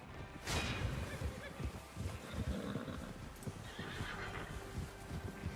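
Horses in Red Dead Redemption 2 whinny loudly near the start, followed by steady clip-clopping hooves and restless snorts as a gang readies its mounts, with faint ambient bird calls behind.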